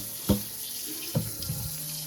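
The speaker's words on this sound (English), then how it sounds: "all you have to do is shock it with cold water" Cold water runs from a kitchen tap over cooked noodles, a steady rinsing hiss with a couple of brief splashy bursts as the noodles are shaken under the stream.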